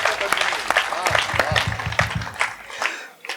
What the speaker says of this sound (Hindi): इस बात पर भी एक बार जोरदार तालियां बजाइए